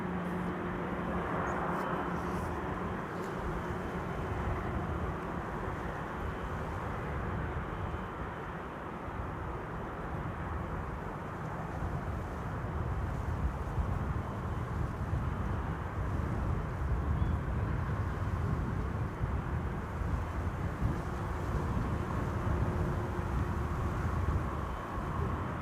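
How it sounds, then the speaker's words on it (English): A Corendon A350 airliner arriving at Amsterdam Schiphol gives a continuous low jet roar and rumble, distant and steady for the full duration, swelling slightly toward the end with no voices over it. "Next up, Corendon World to fly with the A350, the first A350 of the show, flight 5990, arriving from Willemstad, Curaçao."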